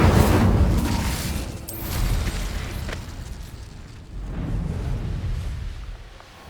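A fire spell cast in Hogwarts Legacy bursts with a loud roaring whoosh, then keeps rumbling in low swelling waves, like flames blasting and crackling, with no talking over it.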